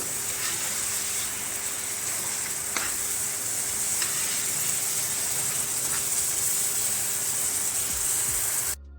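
Tomato tadka sizzles and fries steadily in a pan, with a constant bright hiss and occasional stirring clicks throughout, close and alone.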